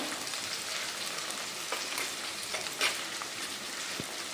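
Curry leaves and green chillies frying in hot oil for a Kerala toddy-shop fish curry, a steady close sizzle and crackle with small pops and stirring scrapes, no voices.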